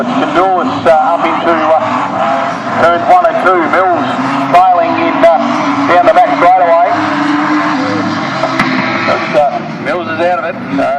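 Production sedan race cars lapping the Wahgunyah Speedway, engines snarling and rising in pitch as they pass in a pack down the back straight, loud and continuous under a race commentator's talk.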